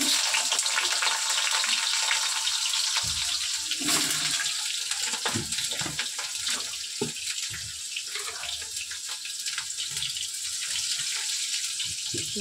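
Cut potatoes sizzle and crackle loudly in hot oil with cumin seeds, a dense, steady hiss with scattered pops and spatters that continues throughout, close up and without talking.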